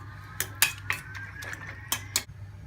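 A spoon or fork clinks sharply against a bowl several times while beating egg mixture with a tablespoon of lemon juice for a keto omelette, close up and irregular over a low steady background hum.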